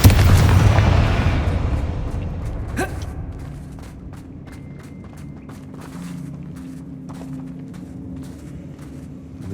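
Fire-spell blast from the Confringo charm in Hogwarts Legacy, a heavy booming explosion at the start that rumbles and decays, followed by scattered thuds, clicks and a faint low hum.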